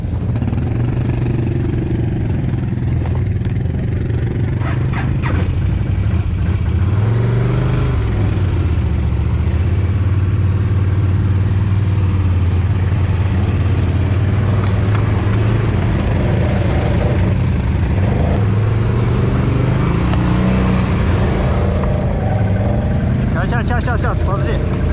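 A BRP Can-Am Outlander 800 Max XT ATV engine revs and pulls away in a swamp, its steady mid-pitched drone rising and falling with throttle, close and loud under intermittent talking.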